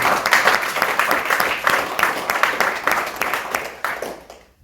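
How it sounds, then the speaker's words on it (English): Applause from a city council meeting audience for city workers: steady, dense clapping at close range that runs for several seconds, then thins and fades out at the end. "So I think they deserve a round of applause"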